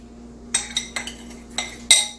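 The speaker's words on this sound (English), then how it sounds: "I think I should have got a bigger spoon to dip this out with" A spoon scooping homemade banana pudding out of a dish, giving a handful of sharp metallic clinks and scrapes spaced irregularly, close and fairly clear.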